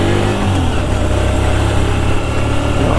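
A Hyosung GT250R 250cc sport motorcycle engine idles steadily and loudly up close at a shop, a continuous low throbbing rumble with no talk over it.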